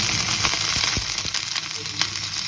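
Diced potato and papaya hit a hot pan and sizzle steadily, with light crackles and spits popping through the frying close by, and no voices.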